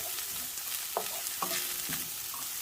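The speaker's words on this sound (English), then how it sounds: "So now I'm going to add a tablespoon of butter. Melt that up." Butter melting and sizzling in a pan with cooked onions, a soft steady crackle with a few faint stirring clicks, no talking.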